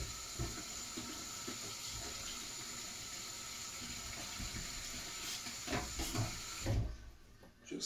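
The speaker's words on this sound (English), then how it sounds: "Could be lazy and wash the sink out." A kitchen tap runs as a sink is rinsed out after draining potatoes, giving a continuous close wash of water with a few soft knocks, before the flow cuts off near the end.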